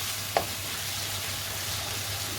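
Peppers and onions fry in a hot pan for British Indian restaurant-style cooking, giving a steady, close hissing sizzle with one sharp clink early on and no voices.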